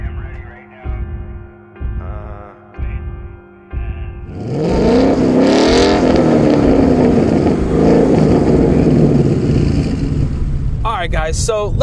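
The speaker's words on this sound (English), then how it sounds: "my 2016 Mustang GT, which is the one I'm driving right now" 2016 Ford Mustang GT engine, first a few short separate blips of idle and throttle, then a loud sustained roar that swells and falls in pitch like a rev, with a brief clatter at the end.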